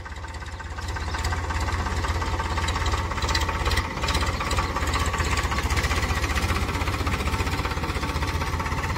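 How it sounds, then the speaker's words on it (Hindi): A Farmtrac 45 tractor engine runs steadily in a sugarcane field, a loud, close diesel chugging with a rapid, even knocking rhythm that holds throughout with no talk. "भाई ये फार्म ट्रैक की आवाज़ बहुत बढ़िया,"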